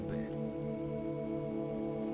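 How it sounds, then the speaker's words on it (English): Steady rain hiss in the pixel-art game The Deer God, a continuous wash of falling water with a low tonal drone layered underneath, no voices. "It's raining."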